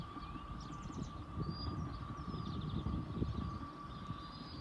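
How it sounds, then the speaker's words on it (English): A distant passenger train rumbles past on the West Highland Line in Scotland, a low steady roar with wind noise and faint birdsong above it. "There's the train on the West Highland line."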